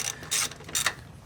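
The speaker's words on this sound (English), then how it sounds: "I'm using a deep well socket." A ratchet fitted with a deep well socket works on the firewall nuts of a Chevy Express / GMC Savana van during brake booster replacement. It gives two short bursts of rapid clicking, close and moderately loud, with no one speaking.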